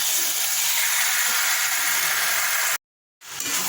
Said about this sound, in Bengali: মাংসটা আরেকটু ভালো করে কষাচ্ছি